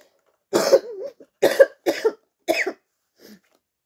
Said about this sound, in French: Je suis plus malade, mais je tousse encore.